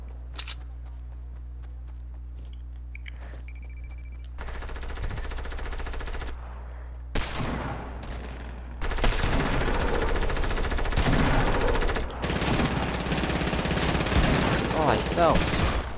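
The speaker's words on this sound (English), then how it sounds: "Is someone shooting?" Rapid automatic gunfire in an online shooter match: loud, dense bursts of shots that grow into a sustained volley with short breaks, with faint voices in the background.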